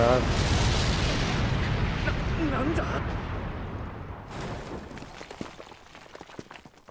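A wall explodes with a heavy boom, opening with a loud, rumbling roar that slowly fades, leaving scattered crackles and debris-like clatter afterward.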